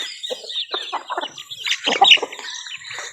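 A rooster clucks repeatedly on a farm, a run of short, close, fairly loud calls with brief pauses and other faint fowl sounds behind, no talking.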